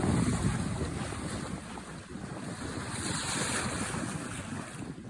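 Steady wind rushes over the water while a Buccaneer 18 sailboat runs before a broad breeze, with continuous wave wash and microphone wind buffeting, loud and unbroken throughout.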